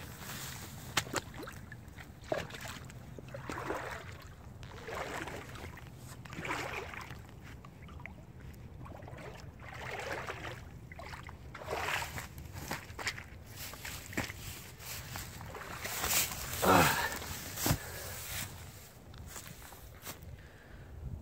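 Kamik winter hunter boots wading through a creek, a series of rhythmic splashing, sloshing steps through water, fairly close and moderate in loudness, each stride a broad wet swish with trickling between.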